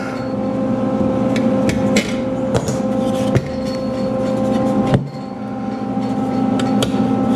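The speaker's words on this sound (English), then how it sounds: "just go in with a pair of tin snips" Tin snips cut through the metal of a Suzuki TS250 motorcycle seat pan, giving a series of sharp, close metallic snaps and clacks over steady workshop hum, with no talking.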